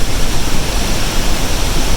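Niagara Falls roars up close, a dense, steady wall of broadband water noise pouring 500,000 gallons a second, loud and unbroken throughout with no voices.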